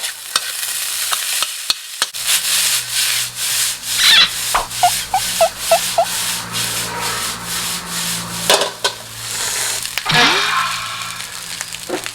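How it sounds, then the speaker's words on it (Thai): A spatula scrapes and stirs fried rice with shrimp paste chili sauce in a hot pan, with a steady rasping rhythm and a soft sizzle underneath; no voices. "ผัดให้หอม"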